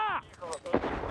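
A grenade explodes in combat footage, a sharp blast burst near 0.75 seconds after a shouted voice at the start, with rumbling debris and noise trailing off afterward.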